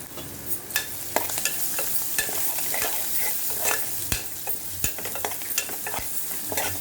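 Green chillies sizzle and fry steadily in a hot pan for capsicum rice, with a spoon scraping and stirring at irregular intervals, close and alone without any talking.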